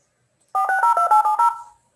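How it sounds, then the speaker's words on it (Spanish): A telephone keypad sends a quick run of about seven clean DTMF dialing tones, loud and close, each short beep stepping between pitches before trailing off into silence. "de teléfono, que son ondas que corresponden a los dígitos que uno presiona cuando quiere llamar a alguien"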